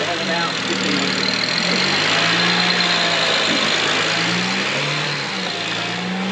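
BMW E90 335i with an N54 engine, smoking and oily in a couple of spark plug holes, revved a few times so the tone rises and falls over the idle, with people talking alongside.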